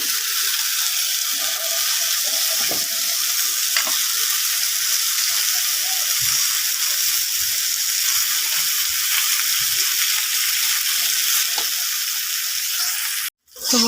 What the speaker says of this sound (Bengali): এটা ভালো করে একটু বেশি করে ভেজে নেব